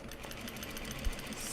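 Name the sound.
sewing machine basting stitch on denim fabric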